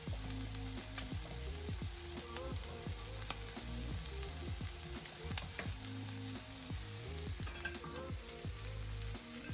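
Shrimp fry in a pan for creamy Cajun shrimp and grits, with a steady loud sizzle throughout and repeated clinks and scrapes from stirring in the pan.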